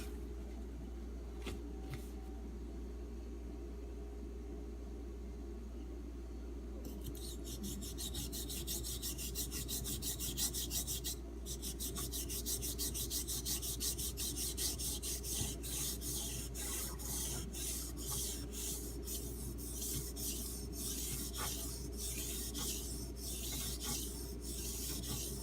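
A knife is sharpened on Arkansas water stones of 3k and 6k grit, giving a continuous close rubbing rasp that grows denser and more textured partway through, layered over a steady low hum.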